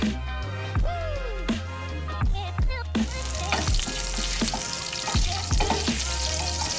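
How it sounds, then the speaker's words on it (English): Chopped garlic sizzles on low heat in a pan of rendered bacon fat for carbonara, a continuous frying crackle broken by repeated knocks and scrapes of stirring, which grows brighter and louder partway through. "turn the heat down to low and put in the chopped garlic"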